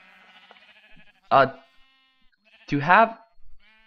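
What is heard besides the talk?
sheep bleating in Minecraft video game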